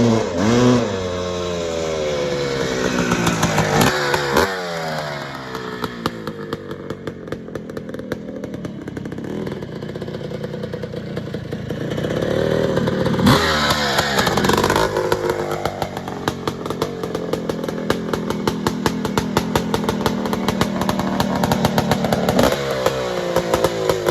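Honda CR500R two-stroke motorcycle engine revving hard, rising and falling crackling blasts with rapid pitch sweeps, loud and close, a brief drop near five seconds before climbing again.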